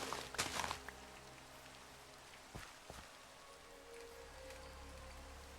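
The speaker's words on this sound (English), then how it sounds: "Oh, it's raining." Rain falling in the video game Minecraft, a soft continuous patter with a few brief knocks near the start, steady and fairly quiet throughout.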